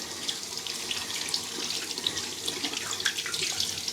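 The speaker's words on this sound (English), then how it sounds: "Let me wash my hands." Tap water runs steadily into a sink while hands are washed, a close, even splashing hiss with small irregular spatters and no voices.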